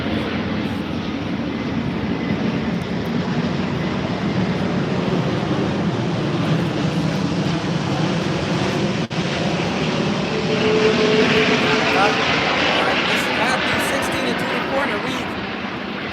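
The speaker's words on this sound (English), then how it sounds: "I'll let this plane pass over." Fixed-wing airplane passing overhead at an outdoor street gathering in Inglewood, a loud continuous engine roar that swells and lingers for the whole stretch.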